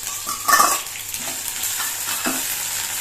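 Ginger garlic paste sizzles in hot oil with fennel seeds in a pan, a steady close frying hiss with a few stirring scrapes and clinks.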